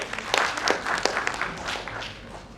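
Brief burst of audience clapping at a theatre festival in Bhopal, moderately loud and continuous for a couple of seconds with a few sharper individual claps.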